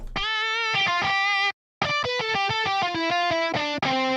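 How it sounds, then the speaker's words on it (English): A dry, distorted electric guitar plays a short riff of sustained and choppy notes, cutting off abruptly with a brief silence midway, no room echo. "Here's a guitar with no reverb on it."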